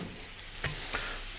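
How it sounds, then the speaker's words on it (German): Butter sizzles in a pancake pan as batter fries, a steady dense hiss with a couple of faint clicks, close and continuous with no talk. "So, wir braten die Pfannkuchen aus."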